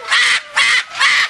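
An umbrella cockatoo gives three loud, harsh, screeching calls in a steady rhythm, each lasting about a quarter second, close up and alone.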